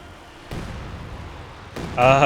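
A Katyusha rocket barrage hits in a Company of Heroes 2 battle. Two heavy thudding impacts land about a second apart over low rumble, then a voice rises at the end.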